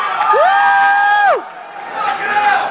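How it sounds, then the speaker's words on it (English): Convention crowd at a Comic-Con panel in a large hall screams and cheers loudly, with a long sustained whoop over the roar, then a second swell of shouting. "So we're just gonna scream for about 10 more minutes."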